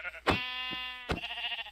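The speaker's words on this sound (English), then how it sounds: "I heard some sheep." A Minecraft sheep lets out one drawn-out, buzzy bleat at close range, with a sharp blip at the start and another near the end. A softer, wavering tone trails off after the bleat.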